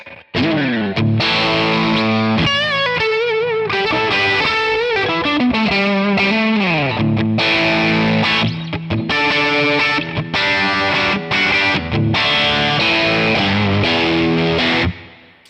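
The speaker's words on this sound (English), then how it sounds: "So let's go ahead and move to a heavier gain lead tone. And this is the OD100." Heavy-gain electric guitar lead through an OD100 amp model from an Amalgam Two Rock tone pack on a Tonex, playing sustained distorted bends and fast runs, loud and continuous for about fifteen seconds with no talking.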